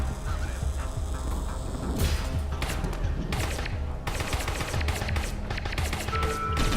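Gunfire in the tactical game Satellite Reign, rapid bursts of shots rattling through a busy mix of game sounds and music, with sharp volleys clustering around the middle of the stretch.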